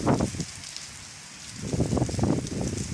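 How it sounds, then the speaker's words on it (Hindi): Dense, continuous rainfall in a village pattering hard on surfaces, swelling louder in waves, close by. "सही बारिश हो रही है तेज।"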